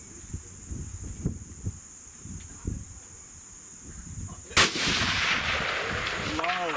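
A single rifle shot cracks loudly on a long-range shooting course, aimed at a jug target, followed by a lingering outdoor echo over faint background rustling and a steady high hum.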